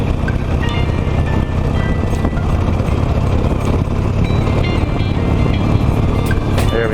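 An old Harley Davidson Nightster motorcycle, 17 years old, is ridden along a road. Its engine drones steadily and loudly under constant wind rush for the whole stretch, with no talking.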